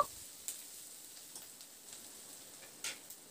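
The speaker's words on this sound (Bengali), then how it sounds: "এবার পেঁয়াজটা দিয়ে মিনিট 2-3 জন্য নাড়াচাড়া করে বেশ একটু হালকা লালচে রং ধরা পর্যন্ত ভেজে নেব।" Chopped onion and garlic sizzle steadily in hot oil, a soft continuous frying hiss broken by a few light clicks and scrapes as a spoon stirs the pan, with no voices.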